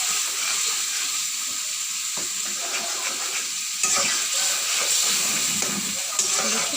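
Tomato paste stirred and fried in a pan gives off a steady, close sizzle and hiss, with soft scraping stirs running through it.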